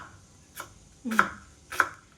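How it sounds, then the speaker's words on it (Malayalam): An onion being chopped finely with a knife on a board, three separate sharp cuts spaced about half a second apart, close and clear against a quiet background. "നമുക്ക് സബോള നന്നായിട്ട് കുലുകുലാന്ന് അരിഞ്ഞെടുക്കാം"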